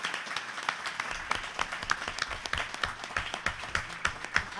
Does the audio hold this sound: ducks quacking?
no